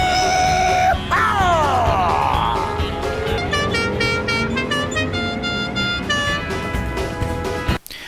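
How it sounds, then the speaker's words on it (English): The General Lee car's horn plays the Dixie tune, a bright stepping melody of loud horn notes over roaring engine noise and yelling, ending with a sudden thud. "made the Dixie sound, just like the sound of the Duke's General Lee's horn"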